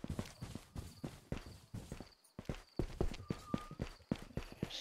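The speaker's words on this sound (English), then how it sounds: "So many footsteps." Footsteps patter steadily in the Ghosts of Tabor video game, a fast, fairly quiet run of thuds over a dense background, with other game noises mixed in.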